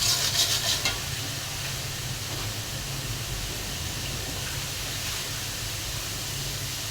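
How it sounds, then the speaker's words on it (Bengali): A spice paste of garlic, onion, turmeric and chilli fries in a pan, giving a loud, steady sizzle throughout, with a brief burst of stirring and scraping at the start. "এখানে আমি মশলাটাকে ভালো করে বেজে নিচ্ছি।"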